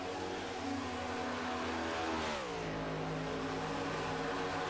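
Stock cars at speed during an ARCS Midwest stock car race, the Mechanical 250 at WMAS: a dense, continuous engine roar with one car's pitch sweeping down as it passes close by.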